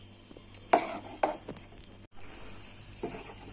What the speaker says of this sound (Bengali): এটা গুলছি, গুলে আপনাদের দেখাবো কতটা টেক্সচারটা হবে।